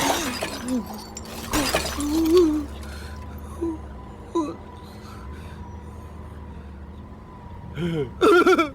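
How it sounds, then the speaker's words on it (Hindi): Car window glass shatters in a Hindi action-comedy film scene, one sharp, loud crash with a spray of breaking glass, followed by scattered thuds and brief voices. "तूने पापा की फेवरेट गाड़ी का कांच तोड़ दिया।"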